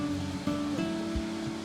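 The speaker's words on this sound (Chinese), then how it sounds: "在高处看着这瀑布" Jaein Waterfall in Gyeonggi-do, South Korea, heard from a high lookout platform as a faint, continuous distant rush with a few soft tonal hums over it.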